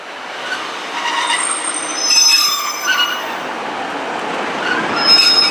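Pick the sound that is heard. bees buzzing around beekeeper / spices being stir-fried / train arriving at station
train arriving at station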